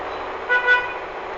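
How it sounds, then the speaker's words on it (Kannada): A car horn in the Vegas Crime City video game sounds two short toots in quick succession over a steady engine drone. "ಅಲ್ಲೇ ಹಾರ್ನ್ ಹೊಡಿಬೇಕು ಇವತ್ತು ಬರೀ."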